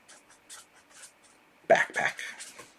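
A pen writes on paper in a series of soft scratchy strokes, first faint and then louder and closer, under a voice speaking throughout.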